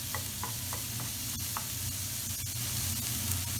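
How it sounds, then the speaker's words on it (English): Chopped onions sizzle steadily in a pan over medium heat while being stirred, giving a continuous soft frying hiss with occasional scraping clicks from a utensil, close and fairly quiet. "Now just on a medium heat, we just want to very lightly brown our onions."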